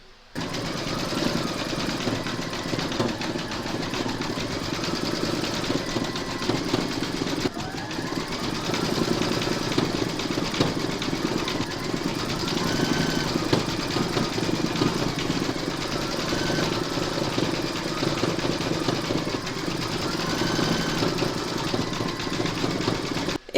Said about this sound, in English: Load your matching bobbin and thread for the seeds into your machine